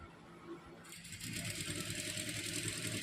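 Sewing machine stitching a blouse neckline, starting after a quiet moment into a steady, fast, close mechanical whirr of rapid stitches that runs to the end.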